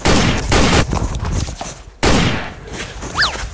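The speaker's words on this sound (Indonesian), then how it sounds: "Ti, kan nembak saya kok ini, Ti?" Gunshots ring out in a rapid burst of loud, sharp reports, then a pause and a second volley with echoing tails, close and dominant in the mix.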